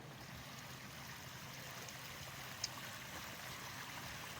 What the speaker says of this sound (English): you really feel immersed in the water because of all the nice sound